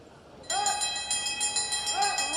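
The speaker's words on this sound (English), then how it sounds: "Bell and 1 to go, Capewell in front." Bell rung for the final lap at a masters track cycling world championship race, a bright sustained ringing with repeated strikes starting abruptly and continuing throughout, under arena noise.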